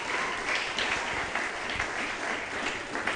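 A church congregation claps and cheers in praise, steady dense applause with scattered louder claps throughout, filling the room without a pause.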